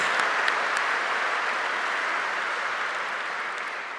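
Sustained audience applause at a Vermont Air National Guard F-35 arrival ceremony, a dense steady wash of many hands clapping that stays loud throughout and tapers slightly toward the end, with no talking.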